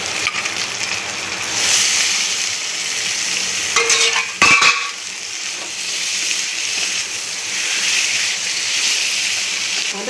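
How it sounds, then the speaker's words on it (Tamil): Chicken pieces fry in a pan for Chettinad pepper chicken while being stirred, a loud steady sizzle with a burst of scraping, clattering stirring in the middle before the frying settles back. "இந்த மாதிரி சிக்கன் வந்து நல்லா ஃப்ரை ஆகிருக்கு"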